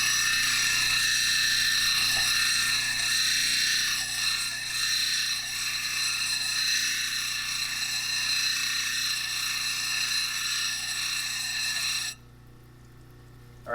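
A lapidary machine grinds a stone cabochon smooth, a steady loud whining drone with a bright high hum that runs continuously for about twelve seconds, then cuts off abruptly.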